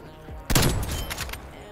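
A sudden close burst of rapid gunfire in a video game search and destroy match, a short loud volley that rings out briefly before fading.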